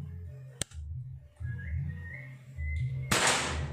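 A PCP air rifle, a CNC-built model, fires with one sharp crack, then a second noisy burst sounds near the end over a low steady background hum.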